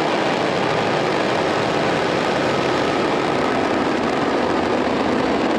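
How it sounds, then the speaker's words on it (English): A SpaceX Falcon rocket roars at liftoff on the NROL-77 mission, a loud, dense, unbroken rumble that fills the whole stretch without letting up. "engines full power, and liftoff"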